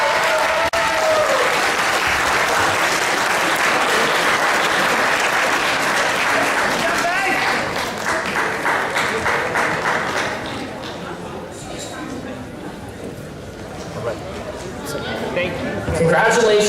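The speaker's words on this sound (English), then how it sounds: "Let's give a round of applause to our next finalist," Audience applause fills a regional robotics qualifier competition hall for a finalist team, loud and steady for several seconds before thinning into scattered claps and crowd chatter, with cheering voices near the end.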